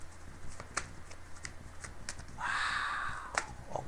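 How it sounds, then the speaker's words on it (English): Playing cards being shuffled up close, a dense riffling burst after scattered single card snaps and taps, with a few sharp clicks around it. "these cards don't even want to shuffle"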